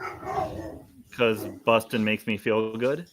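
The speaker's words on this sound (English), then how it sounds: "My terror dogs are going nuts." Several dogs bark and yip in the background while someone talks over them, the barks mixing into his speech in short bursts.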